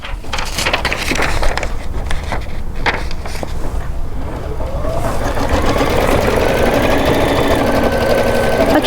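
An embroidery machine stitches quilting in gray thread, starting with rattling and clicks and then settling into a fast, steady mechanical whir that holds at constant loudness through the second half.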